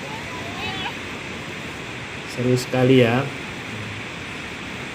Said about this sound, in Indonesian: ini dia sedang menikmati deburan ombak yang menerpa